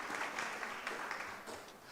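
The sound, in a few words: audience applause at a community meeting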